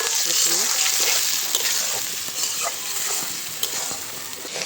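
Sliced potatoes fry with salt in a hot pan, a continuous close sizzle with occasional stirring scrapes running under the whole stretch.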